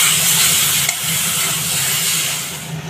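Cooked kochu shak (taro greens) stirred in a hot pan until dry, giving a steady steamy hiss and sizzle close by, with faint scraping throughout.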